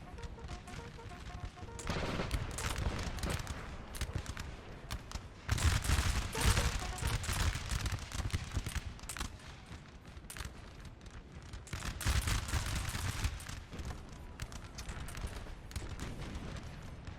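Musket volleys from Bavarian line troops in Napoleonic Total War 3, heavy crackling bursts of massed fire rolling in waves over a continuous battlefield din, with distant rumbling between volleys.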